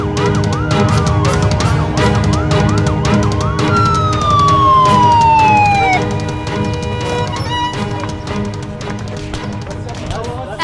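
Security force vehicles wail with sirens near a residential area, several overlapping tones rising and falling over a dense din, one long sweeping wail cutting through before fading back into the general noise.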